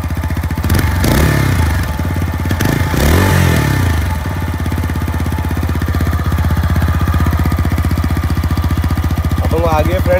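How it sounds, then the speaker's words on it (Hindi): A TVS Apache 160 special edition motorcycle idling close by, its exhaust giving a steady, even low thrum that continues throughout, with someone talking over it in the opening seconds. "मैं आपको पहले गाड़ी की आवाज़ सुनाता हूँ। उसका एग्जॉस्ट नोट भी बहुत प्यारा है"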